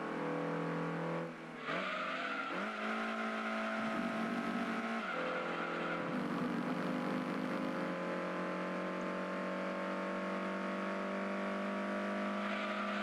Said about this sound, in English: I see the Shelby Series 1 arriving fast